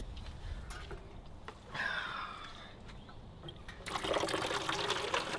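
Hot water runs into an outdoor sink at a recycled pallet-wood off-grid log cabin, starting as a light trickle, briefly splashing louder, then gushing more strongly toward the end.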